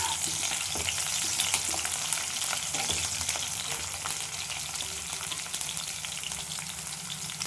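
About fifteen garlic cloves sizzle and crackle steadily in a hot pan, with occasional stirring clinks, close and moderately loud, no talking.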